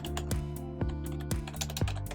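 Steady run of computer keyboard keystrokes, four or five evenly spaced clacks over two seconds, close-up and alone, typed while configuring a Netduma R1 router.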